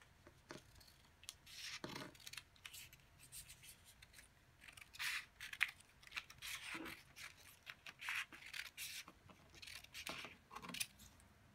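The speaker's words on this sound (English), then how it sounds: "So I'm just going to cut along the long side in small strips." Scissors cut paper into strips for a windsock, giving quiet, close snips and rustles that come in irregular bursts against a soft background.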